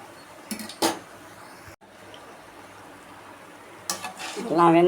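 Jangiri batter frying in oil over moderate heat, a steady soft sizzle with a few clinks of utensils against the pan, close and fairly quiet, no talking.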